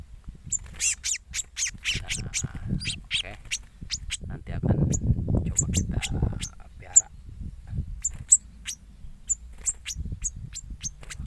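Sharp, high chirping calls of a male sunbird repeat in quick bursts, close and clear, while someone talks underneath for much of the time.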